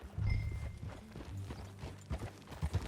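Horse hooves clip-clopping in the video game Red Dead Redemption 2, a quick uneven trotting rhythm of close, soft thuds with faint background hum.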